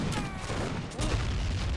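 Dense, continuous battle noise from a beach assault in the Born in the Fire: America game mod: rumbling artillery explosions and crackling gunfire overlap loudly with no pause.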